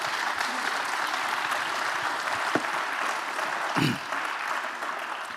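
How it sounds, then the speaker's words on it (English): A conference audience applauds the panelists, a continuous, even wash of clapping from a large hall that holds steady throughout, with a couple of brief thumps near the microphone. "Please, a round of applause to the panelists."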